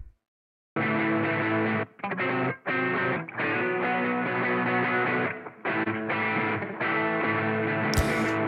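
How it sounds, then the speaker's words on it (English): An electric guitar played through a Blackstar St James amp sim with a nasal, thin telephone-like radio tone, lows cut, in several strummed bursts with short gaps. "Now it feels all nice and telephone-ish"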